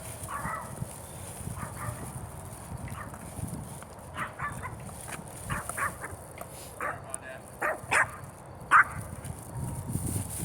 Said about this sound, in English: Oh, it's a little dog.